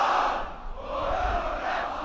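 Almost a capacity crowd at a schools rugby match between Paarl Boys High and Boland Landbou roars and cheers, a steady, dense wash of voices at moderate distance with no commentary.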